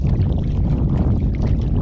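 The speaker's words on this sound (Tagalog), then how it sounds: "magsagwan na kami pabalik doon sa bayan" Water sloshes and churns close by with a low rumble of wind and rain, a continuous wash of oar strokes around a small rowboat.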